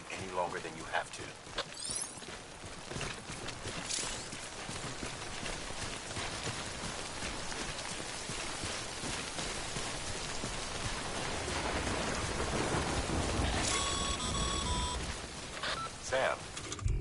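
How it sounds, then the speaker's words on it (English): Timefall rain falls in a PS4 video game as a steady, dense hiss of rain hitting surfaces, with spoken voices and a few brief electronic tones over it. "Don't stay out in the rain any longer than you have to."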